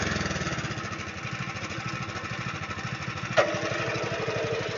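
A cultivator's small engine chugs steadily and loudly nearby with a rapid pulsing beat while tilling beds for shallots, with a brief sharp knock partway through.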